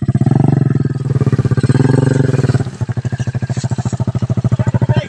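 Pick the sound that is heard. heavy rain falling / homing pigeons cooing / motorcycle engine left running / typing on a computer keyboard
motorcycle engine left running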